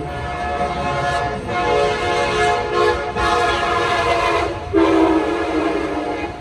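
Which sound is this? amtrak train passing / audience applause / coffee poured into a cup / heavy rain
amtrak train passing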